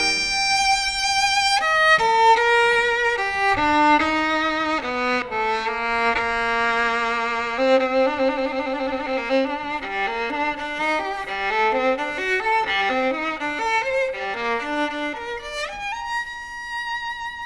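A solo violin plays an opening cadenza-like statement strictly in time, clear sustained bowed notes rising and falling in steady rhythm, close and alone throughout with no speech.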